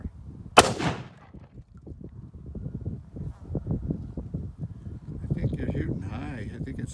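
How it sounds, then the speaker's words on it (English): One sharp, loud rifle shot rings out from a .280 at a jug target outdoors, followed by wind noise and rustling, with people talking in the background. "I'm shooting my 280."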